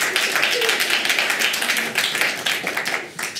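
Dense, lively clapping from a stand-up comedy crowd, close and continuous and briefly dipping near the end, with some voices mixed in.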